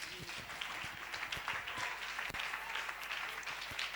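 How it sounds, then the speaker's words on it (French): A church congregation applauds to acclaim the Lord at a French-language service, giving steady, even clapping from many hands that sounds fairly faint and distant throughout. "Est-ce qu'on peut acclamer le Seigneur pour ça?"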